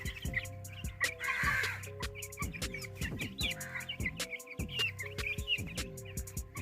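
Chickens on a family farm with ducks nearby cluck and call continuously at close range, with quick overlapping notes and short sharp squawks.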